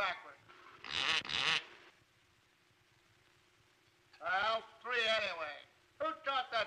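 A parrot imitates a duck's quack in repeated harsh nasal bursts, with a pause between groups, sounding close and loud in an early 1930s film comedy scene.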